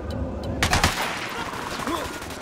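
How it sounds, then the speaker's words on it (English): Quick bursts of rapid gunfire in Ghost Recon Wildlands, a few sharp shots clustered close together, loud over a low ambient rumble, with a voice briefly heard. "I'm shooting these fuckers."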